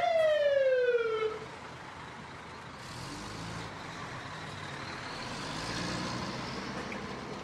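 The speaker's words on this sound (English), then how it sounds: "Their sirens flash and wail to clear the road ahead." A fire truck siren wails in a long falling sweep that fades out, leaving a steady low rumble of traffic behind.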